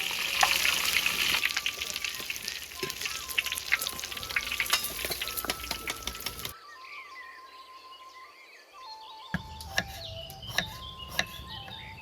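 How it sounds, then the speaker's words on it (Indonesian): Tofu sizzles loudly in hot oil in a pan, with scattered sharp crackles and utensil clicks; the sizzle drops away briefly partway through before quieter popping resumes. "Goreng tahunya dulu"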